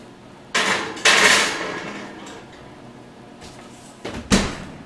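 A purple sweet potato pie goes into the oven, with a sharp clunk of the oven door opening, a rattling slide of the rack, then two more bangs as the door shuts, close and loud.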